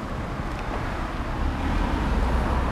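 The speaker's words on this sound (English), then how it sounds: "If you can even hear me anymore, of all this traffic." Heavy road traffic near a bus stop, a dense continuous roar of passing vehicles with wind buffeting the microphone, filling the short stretch with no voices.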